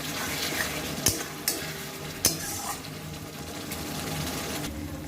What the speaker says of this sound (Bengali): এর মধ্যে এবার কাঁচা লঙ্কাটাও দিয়ে নিলাম। দিয়ে আবার ভালো করে কষিয়ে।